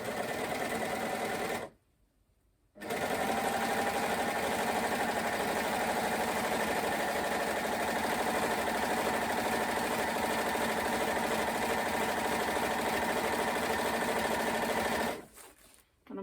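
An overlocker stitching pyjama trouser fabric, whirring at a fast, steady pace in long continuous runs with short pauses between them.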